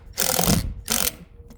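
Power driver sinking lath screws through metal into an RV deck, two short loud whirring bursts in quick succession, close up, then a faint click as it stops.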